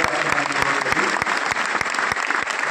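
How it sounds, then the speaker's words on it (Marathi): Loud applause at a devotional gathering, a dense roar of hand clapping with sharp evenly spaced claps standing out, close and continuous throughout. "खूप जोरात टाळ्या वाजवत"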